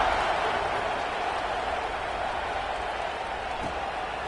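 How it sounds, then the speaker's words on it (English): A steady, broad crowd roar hums through a college football video game stadium after a score, constant and loud with no distinct peaks. "this crowd is buzzing after that last score"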